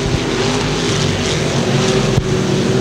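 Race cars roar past in a heat race at Thunder Hill Speedway, a loud, steady engine drone heading down the back chute into turn three, with a brief sharp burst near the end and no talk.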